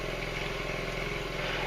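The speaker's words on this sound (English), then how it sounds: "I've got that machine idling almost as slow as it'll go, just enough to keep up with the water coming in" An engine-driven water pump idles nearly as slow as it will go in a flooded basement. It makes a steady, close, low mechanical throb with no voices.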